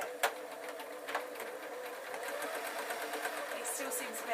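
A sewing machine stitches fabric for a bunny puppet in a steady, fairly quiet run with a few small clicks, while a voice talks faintly over it.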